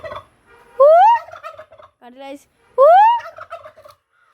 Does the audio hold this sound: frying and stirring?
no